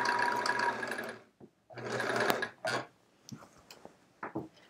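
A domestic sewing machine stitches the side borders of a chevron quilt in loud, close bursts of steady running, broken by short pauses and small handling clicks as the fabric is shifted.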